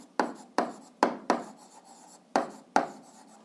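Pen or pencil strokes on paper during a school algebra lesson, six short sharp scratching bursts in an uneven rhythm, close and clear with no talking.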